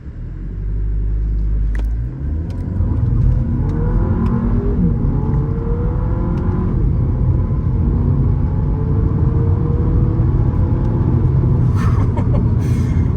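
A VW Polo GTI launches hard in sport mode, its engine note rising from a low idle rumble into a loud, sustained climbing roar with gear changes, heard from inside the car.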